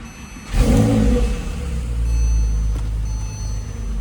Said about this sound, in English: I just started it up to move it forward a couple feet.